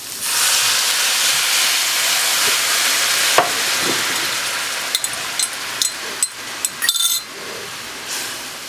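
Brandy hits a hot pan of butter and shallots to deglaze a chicken cream sauce, giving a loud, steady hissing sizzle that later thins out among several sharp clinks of a utensil against the pan.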